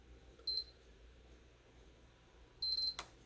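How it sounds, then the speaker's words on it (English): A PlayStation 3 console gives two short, high electronic beeps about two seconds apart while its power button is held, each beep clear and close against a quiet room hum. "As soon as it double beeps,"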